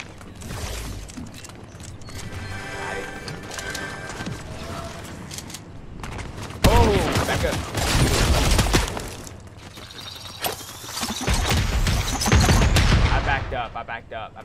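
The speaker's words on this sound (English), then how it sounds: "spamming that auto shotgun" An auto shotgun in a multiplayer video game blasting over and over in quick bursts, loud and close, mixed with clattering game effects and stretches of voices talking.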